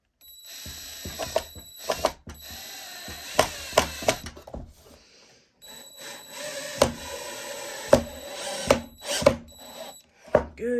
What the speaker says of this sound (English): Get your screws. Slowly screw them in.